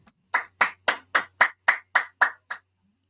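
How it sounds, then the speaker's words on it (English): Nine crisp, evenly spaced claps from one pair of hands, close and clear in an otherwise quiet room, given as applause for participants in an online session. "just clap all of you for this"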